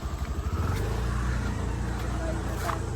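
A car engine hums steadily close by as the vehicle drives ahead, with people talking over the motor noise.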